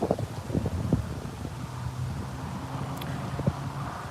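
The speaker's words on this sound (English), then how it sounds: "hopefully you can hear me with this wind" Strong outdoor wind buffets the microphone with steady low rumbling noise and occasional louder gusts, with no clear speech over it.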